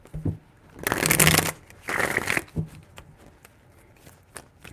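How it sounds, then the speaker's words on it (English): Tarot cards are shuffled by hand in a few crisp, papery bursts, close and fairly loud, with short pauses between riffles in a quiet room. "3 shuffles."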